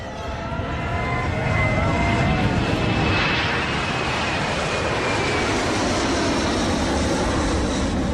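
A loud airplane engine roar in Antarctica that swells and holds steady, a broad sustained rush as the aircraft climbs away.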